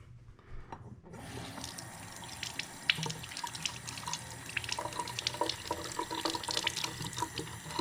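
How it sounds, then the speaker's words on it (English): Tap water runs steadily over cured egg yolks being rinsed in a sink, a continuous splashing flow starting after a brief quiet moment and continuing with small spattering droplets. "And then we're going to rinse it."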